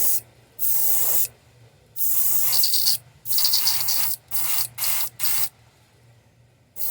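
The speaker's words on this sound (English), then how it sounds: "the airbrush isn't wanting to cooperate" An airbrush sprays paint onto a handmade wooden jointed wake bait in repeated hissing bursts of varying length separated by short pauses, close and clear, with a faint low hum underneath.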